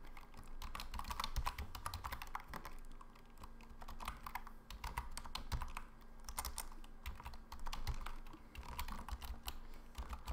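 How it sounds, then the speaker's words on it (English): Someone types quickly and steadily on a very old computer keyboard, the keys clattering close by in continuous bursts with short pauses and no speech. "the authentic keyboard sounds today are provided by my very old keyboard"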